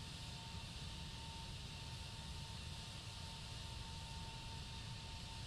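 Jet engines of an A321neo roar at high thrust during the takeoff roll in Microsoft Flight Simulator 2020, a steady, even broadband drone with a faint tonal whine, unbroken for the whole stretch.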